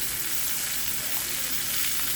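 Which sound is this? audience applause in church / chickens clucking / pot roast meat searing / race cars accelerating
pot roast meat searing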